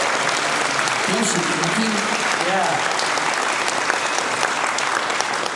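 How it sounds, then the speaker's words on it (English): An audience at the Contact in the Desert 2025 event applauds two military workers after a live psi demonstration, with dense, loud, continuous clapping throughout and a voice speaking briefly over it. "How about a round of applause for these 2 military workers?"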